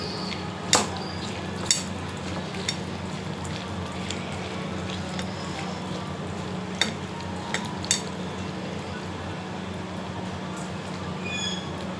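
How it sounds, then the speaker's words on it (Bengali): Prawns being mixed by hand with mustard and chilli paste and oil produce a soft, wet squelching and stirring sound, with a few sharp clinks of a bowl or utensil over a low steady background. "এবার মাখবো।"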